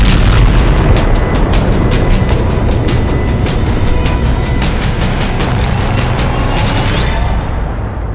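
Artillery explosions from an attack on an artillery unit, heard as a continuous, very loud roar of booms and blasts with sharp repeated cracks layered over a heavy low rumble, easing off near the end.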